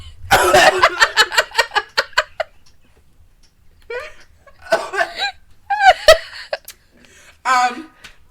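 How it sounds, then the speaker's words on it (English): A burst of harsh coughing up close, then a run of short repeated vocal bursts, followed by scattered voiced sounds and brief noises. "How dare you cough on my show?"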